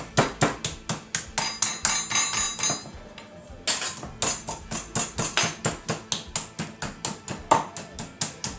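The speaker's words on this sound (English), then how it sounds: "We want to take our meat mallet and we want to pound this down." A meat mallet pounds chicken breast for cordon bleu, delivering a fast run of sharp, loud thuds with a clattering edge, briefly pausing midway before the rhythmic strikes resume, close up with no talking.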